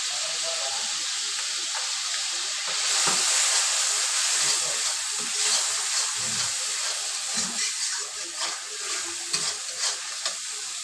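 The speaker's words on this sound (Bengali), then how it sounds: "এবার যে গুঁড়া মশলা ওইগুলো দিয়ে দেবো। লবণ, হলুদ গুঁড়া, ধনের গুঁড়া আর শুকনো মরিচের গুঁড়া।" Ground salt, turmeric, coriander and dry chili powder sizzle and hiss steadily in a hot pan for green jackfruit curry, with frequent stirring scrapes and soft knocks cutting through the constant frying noise.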